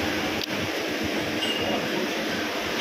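Inside a moving Kolkata train carriage, a continuous loud broadband rumble and hiss of the rolling train fills the space, steady throughout with faint low thumps underneath and no talking.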